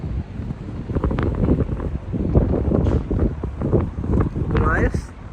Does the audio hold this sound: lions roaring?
no